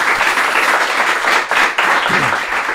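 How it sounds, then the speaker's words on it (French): A studio audience applauds a guest with dense, continuous clapping that holds steady, dips briefly, then picks back up. "On l'applaudit."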